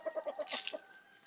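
Chickens cluck close by in a quick series of short, clipped calls, followed by a brief higher squawk.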